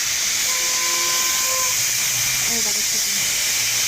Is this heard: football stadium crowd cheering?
no